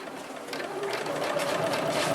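Sewing machine stitching straight quilting lines guided by a ruler, a steady continuous motor whir with a faint rising tone, running close and unbroken without talk.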